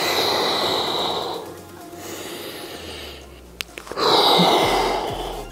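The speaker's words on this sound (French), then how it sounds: "Je souffle au moment de décoller." During an ab core exercise, a person blows out a long, forceful breath, then a second exhale follows after a short pause with some faint clicks between them.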